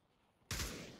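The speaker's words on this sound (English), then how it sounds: "That's Zach just blind firing." Gunfire in Pavlov VR from a player blind firing, a sudden loud burst of shots cutting in after a quiet lead-in and ringing out close by.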